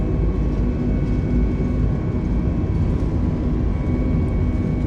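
Airbus A320 engines spooled to takeoff thrust during the takeoff roll in Microsoft Flight Simulator, a steady loud jet roar with a low rumble and faint whine, continuous and unbroken with no talking.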